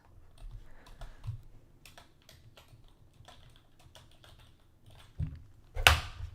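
Typing on a computer keyboard that is acting up, with a steady run of quiet close key taps over several seconds and one louder thump near the end.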